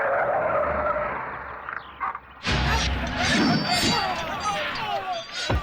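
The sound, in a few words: car braking to a stop, tires skidding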